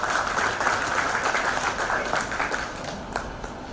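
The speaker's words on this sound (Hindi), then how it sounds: "उनका जोरदार तालियों से स्वागत हो" Hall audience at an exporters' association gathering breaks into vigorous applause, a dense continuous wash of many hands clapping at moderate distance, steady and unbroken with no talk over it.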